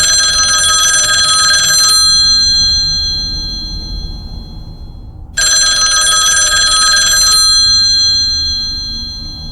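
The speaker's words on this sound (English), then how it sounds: "the phone rang again" A mobile phone rings loudly in two long bursts separated by a pause, a bright trilling bell tone close by.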